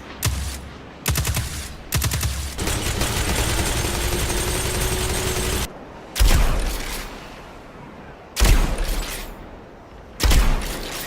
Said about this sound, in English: The sounds of the weapons